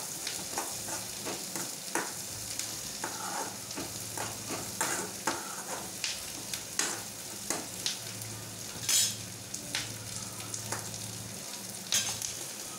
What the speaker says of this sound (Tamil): வெங்காயத்தோடு சேர்ந்து முள்ளங்கியும் நல்லா வதங்கணும் ஃப்ரெண்ட்ஸ்